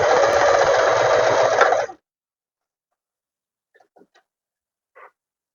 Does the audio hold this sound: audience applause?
no